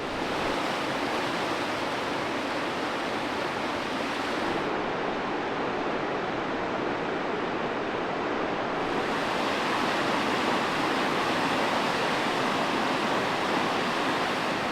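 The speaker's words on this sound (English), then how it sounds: "It actually looks like the river's pretty high." A high river rushes continuously at a state park campsite, producing a broad, steady roar of water that stays loud and unchanging throughout with no voices.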